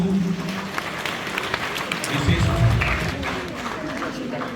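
Crowd applause rises and falls, a dense patter of clapping with some voices mixed in, swelling a little past the middle.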